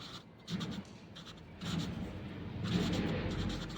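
A pen or marker writes on a men's shirt pattern while chest and shoulder lines are drafted, giving three bursts of soft, close scratching strokes in a quiet room.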